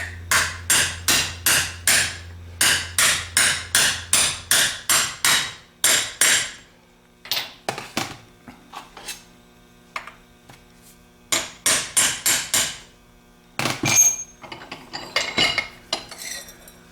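Sharp metallic hammer blows drive a 3/4 socket onto a vintage Chrysler starter part, fast bursts of ringing strikes repeated in several rounds with short pauses between groups, loud and close.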